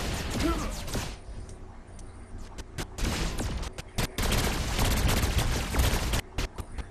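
Heavy-recoil gun in Saints Row IV fires in loud bursts and rapid volleys, sharp cracks repeating across the stretch with brief pauses between strings of shots.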